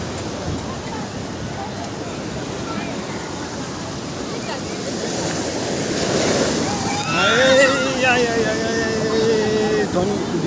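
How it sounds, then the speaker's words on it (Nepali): Ocean waves washing up on a beach at night, a continuous rushing roar that swells louder toward the end with wind buffeting the microphone, while people talk over it. "यत्रो वेभ आउँछ"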